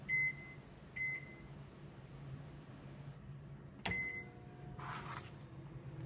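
A microwave oven warming butter in a home kitchen, with a few sharp keypad beeps, a faint steady hum as it runs, and a louder beep and click partway through.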